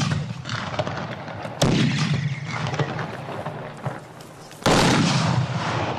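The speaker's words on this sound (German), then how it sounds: "martialisch anmutender Böllerdonner durch das Heimertal von Andreas Hofer hallt" Ceremonial Böller salute cannons fire at an Alpine regional gathering of Schützen marksmen companies in the Heimertal valley: two loud, sharp blasts about three seconds apart, each followed by a long rolling echo through the valley.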